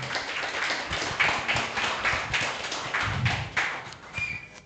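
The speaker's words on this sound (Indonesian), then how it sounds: "Tepuk tangan dong buat Manda." Audience applause at a coffee club event for a game jam, with steady, rhythmic hand claps from a modest crowd lasting several seconds, fairly close and clear with no talking over it.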